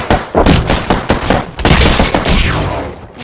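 Rapid bursts of gunfire in the battle royale game Apex Legends, loud and close, with repeated sharp shots and a brief rattling fusillade filling the whole stretch.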